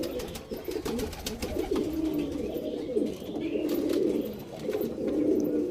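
Domestic pigeons kept at home coo in soft, repeated throaty bursts, several birds layered close by against a faint background, with a few flutters and clicks in between.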